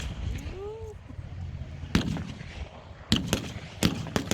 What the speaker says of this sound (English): the Germans open fire